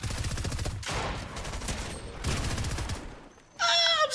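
Loud shotgun blasts and gunfire in a Fortnite match, arriving in dense bursts across the stretch with a sharp, bright burst near the end; no voices over it.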